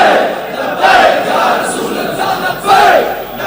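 A loud outdoor crowd of many voices chants a slogan in rising, surging waves, with two stronger bursts of shouting.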